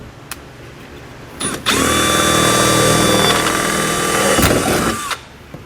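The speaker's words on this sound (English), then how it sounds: "we're just going to drill into the plastic panel right behind it" A power drill with a 1/4-inch bit spins up and bores steadily into a plastic vehicle panel for about three and a half seconds, loud and close, then winds down, with a few clicks before and after.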